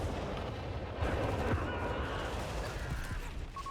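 Mortar half-tracks firing in a Company of Heroes 3 match, a dense battle bed of booming impacts and scattered gunfire rolling continuously at moderate loudness, with no talk over it.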